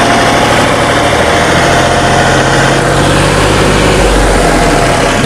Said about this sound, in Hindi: सुनो आवाज़ सुनो इसमें, बिल्कुल ही साइलेंट चलने वाला ट्रैक्टर है ये।